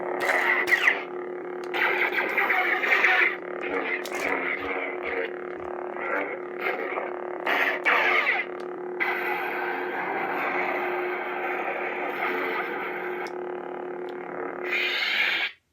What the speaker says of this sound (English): This is Graflex Revenge of the Sith. Anakin's sound font